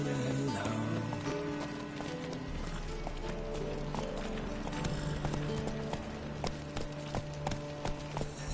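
Hoofbeats of the horse Roach galloping in the Witcher 3 video game, a steady rhythmic clip-clop running under dense game music and ambience.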